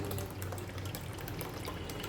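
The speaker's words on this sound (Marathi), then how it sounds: "अलगद वरवरचं पाणी आपल्याला दुसऱ्या भांड्यात काढून घ्यायचे आहे पाण्याबरोबर आपले डाळीचे सालटेसुद्धा येणार आहेत" Water carrying urad dal husks is poured off from one vessel into another, a continuous splashing rush of liquid close by.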